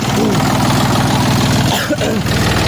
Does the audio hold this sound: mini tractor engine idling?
yes